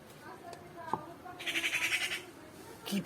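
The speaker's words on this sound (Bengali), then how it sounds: "কি পাখি ডাকে এটা?" A bird calls outdoors near a rooftop, a short run of rapid bright notes rising clearly above a quiet background, followed by a brief sharper call at the end.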